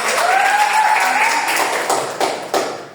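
Classroom applause during a student group presentation in a microteaching lesson, a steady wash of clapping from a room of students with a tonal voice sliding over it early on, then two sharper claps as it fades out.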